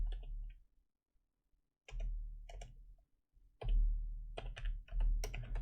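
Typing on a computer keyboard: short clusters of close keystrokes broken by quiet gaps, with a low hum underneath.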